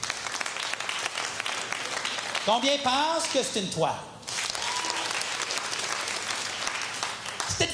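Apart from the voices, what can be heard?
audience applause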